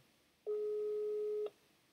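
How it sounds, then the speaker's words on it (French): A French telephone line rings with a single steady tone lasting about a second, faint and alone against quiet background hiss. "C'est une ligne qui sonne comme ça tout le temps."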